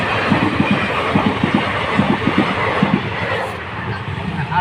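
A passing train with a steady rumbling roar and repeated rhythmic clickety-clack of wheels over rail joints, loud and close, with voices faintly under it.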